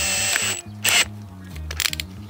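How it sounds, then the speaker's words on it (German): Power drill pre-drilling holes in wood for a raised garden bed, a loud motor whine in short bursts with brief pauses and clicking handling noises between them, close up and without talk. "und bohre die Löcher vor"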